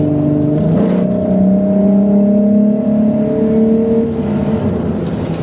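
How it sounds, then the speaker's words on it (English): A Volkswagen Corrado VR6 engine drones steadily through a tunnel, its engine tone holding a sustained hum that rises slightly in pitch, loud and close with a reverberant, enclosed character throughout. "you heard a bit of the engine going to the tunnel."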